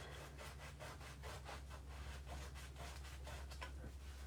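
A finger pressed into a wet baby wipe rubs back and forth across a surface in steady repeated strokes, a soft close scrubbing over a constant low hum with no talk.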